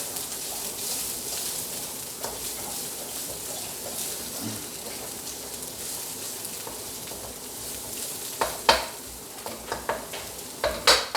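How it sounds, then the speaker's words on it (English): Eggs scrambled in a wok for fried rice, a continuous hissing fry with intermittent utensil scrapes that grow louder and more frequent toward the end. "Stir that up till the eggs are totally scrambled"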